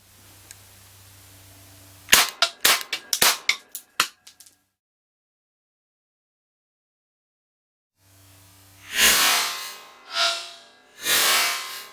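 A Zoraki M917 9mm blank pistol fires a rapid string of sharp, close cracks, about eight in two seconds, then silence, followed by three broader, rushing blasts near the end.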